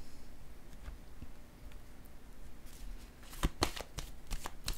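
Cards handled on a table, with a soft shuffle and rustle building to several sharp, close slaps of cards being laid down near the end.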